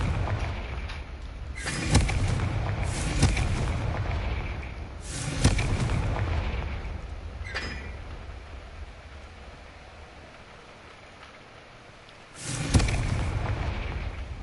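Confringo fire spell explosions in the Hogwarts video game: several booming blasts burst out at uneven intervals over a continuous rumbling background, loud and without any talk.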